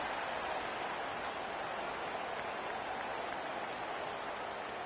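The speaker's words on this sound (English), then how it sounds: "And the crowd coming to life here, trying to help this defense down in the red zone." Stadium crowd cheering in NCAA College Football 25, a steady broad roar of many voices with no distinct peaks, sitting fairly low in the mix.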